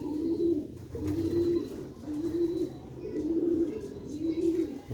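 Grey Sialkoti roof pigeons cooing steadily in repeated rolling phrases, close and clear over a low ambient hum, with no talk.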